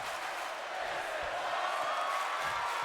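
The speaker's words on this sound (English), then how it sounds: "Crowd chanting, this is awesome." Wrestling arena crowd roaring and chanting in a steady, dense wash of voices that never lets up, loud and continuous as a table gets thrown during a championship wrestling match.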